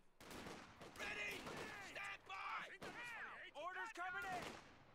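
Gunfire and explosions in the video game Company of Heroes 2 crack in scattered bursts, mixed with in-game voices and battle clamour throughout.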